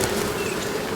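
Honey bees drone steadily in an opened hive, a dense, close buzzing hum with no break.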